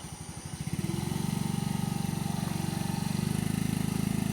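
A motorcycle engine during riding practice revs up from a low idle over the first second, then settles into a loud, close, steady rhythmic drone that pulses evenly throughout.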